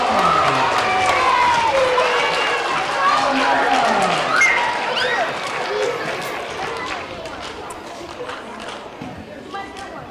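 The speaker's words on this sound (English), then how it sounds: "We have a round of applause for Mrs. Grossman." Applause at an elementary school character education assembly, clapping from a crowd of young pupils, loud and steady at first and then easing off, with chatter, cheering and a voice talking over it.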